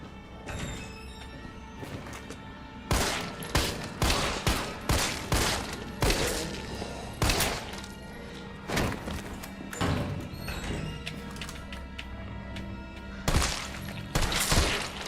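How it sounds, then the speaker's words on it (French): Gunshots ring out while zombies are fought in Resident Evil 3, a series of sharp, fairly quiet reports at irregular intervals, some in quick clusters, over a dull game ambience. "On a le flingue aussi pour tuer les zombies."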